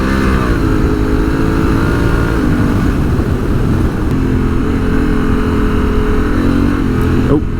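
A 2022 Honda Africa Twin motorcycle revs hard while drifting, its loud, close engine drone rising and falling in pitch without a break for the whole stretch, with no talking.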